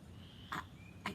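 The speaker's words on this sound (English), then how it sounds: "I can hear a frog" A frog croaks twice down in a creek, two short distinct calls about half a second apart over a faint outdoor background hiss.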